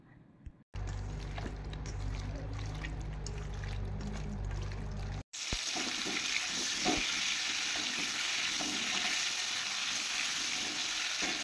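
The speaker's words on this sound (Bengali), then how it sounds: "এদিকে কড়াইয়ে আলুটা ভেজে নিচ্ছি" Potatoes fry in a wok with a continuous loud sizzle and crackle, briefly cut out twice, with low kitchen rumble underneath and no talk.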